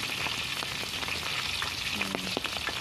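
Chicken frying in shallow oil: a steady crackling sizzle with scattered pops and spatters, close and continuous, with a brief clink of a utensil.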